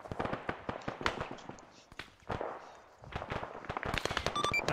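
Gunfire in an Arma 3 counterinsurgency game session: a rapid run of sharp cracks and pops, with brief lulls between bursts and a faint electronic beep near the end.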